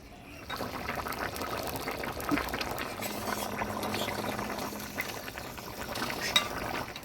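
Katla fish curry with potato and drumstick simmering in a pot, a steady close bubbling hiss of boiling liquid with a few faint clinks.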